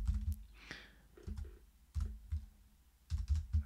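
Typing on the keyboard of a Steam Deck running Python, a quiet patter of key clicks in small irregular bursts with short pauses between, close up with no speech.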